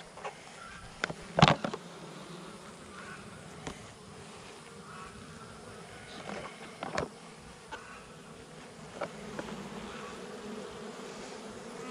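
Agitated honey bees buzz around an opened beehive, a continuous busy drone with occasional louder close passes and bumps, heard alone without speech.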